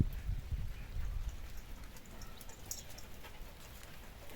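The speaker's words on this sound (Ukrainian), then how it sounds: "Дощик так і крапає." Steady, soft patter of light rain with scattered drips, faint and continuous, no voices.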